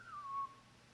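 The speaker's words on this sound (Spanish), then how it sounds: "el cristiano por allá silbando" A person whistles a single short rising-then-falling note, clear and fairly close, alone against a quiet background.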